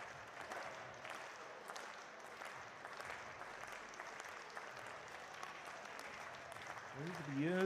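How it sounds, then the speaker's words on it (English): An indoor athletics crowd at the Otrokovice high jump meet claps rhythmically in a steady, moderately loud wash of applause urging a jumper on his third attempt, with a commentator's voice rising over it near the end. "Now the crowd are urging him onwards and upwards."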